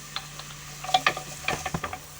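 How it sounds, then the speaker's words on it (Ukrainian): Chopped onion sizzles and crackles softly in hot oil in a pot, with light stirring scrapes in a quiet room. "І буду смажити цибулю до прозорості."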